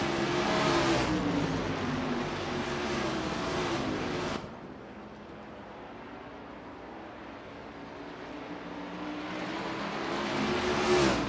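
An 89 Camaro Z28 IMSA GTO race car in a racing game at North Wilkesboro roars loudly, drops abruptly to a quieter, distant engine hum, then builds back up toward the end.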